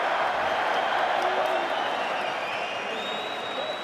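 Dense crowd noise filling a boxing arena, a steady wash of applause and cheering that holds at an even level throughout with a faint whistle-like tone drifting above.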